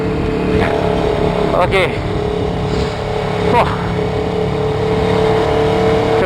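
Aprilia Tuono 1100 V4 motorcycle accelerating up mountain twisties on a Genting hill climb, its engine droning loud and close with rising revs and brief gear-change blips, under wind rush and a short spoken word.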